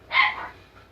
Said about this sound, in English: They can be noisy.